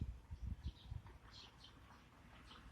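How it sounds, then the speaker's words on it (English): A small bird chirps softly at close range, with a few brief, high, scattered calls over a faint background; no one speaks. "It's a bird."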